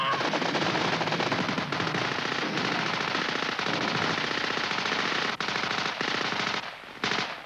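Sustained machine gun fire from a British Army cover group opening up on an enemy position during a fighting patrol, long dense bursts with a few short breaks near the end.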